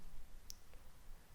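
A single soft computer mouse click during a software installation on a PC, short and crisp over quiet background hiss.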